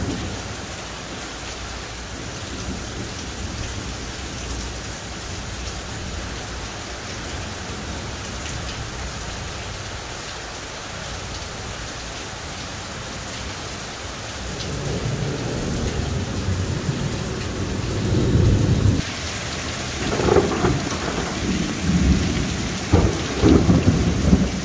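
Heavy thunderstorm on an overland road trip through the Balkans, steady loud rain drumming on surfaces with deep rolling thunder rumbles building in the second half, no voices.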